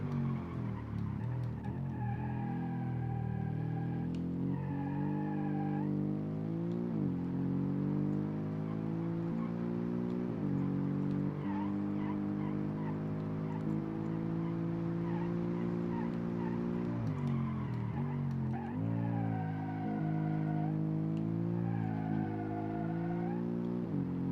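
A 300-horsepower all-wheel-drive hatchback with a six-speed sequential gearbox revs and drives in BeamNG.drive, engine note rising and falling through gear changes while tires squeal repeatedly, loud and continuous throughout.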